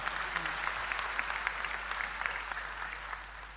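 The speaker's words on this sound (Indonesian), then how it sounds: "Tepuk tangan untuk beliau." Sustained applause from a large audience at an Islamic study gathering, a dense even wash of clapping held steady throughout at moderate level without talk.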